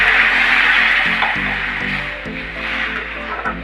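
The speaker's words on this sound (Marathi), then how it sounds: "त्याच्यामध्ये 1 ग्लास पाणी टाकू।" A glass of water poured into a pan of sautéed raw mango and spices, making a continuous close splashing, bubbling wash with a few soft knocks.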